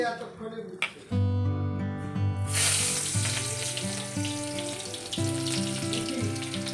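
Hot oil sizzles loudly and steadily once the dried fish shutki chutney with tomato, onion and spices goes into the pan, a continuous frying hiss over background music.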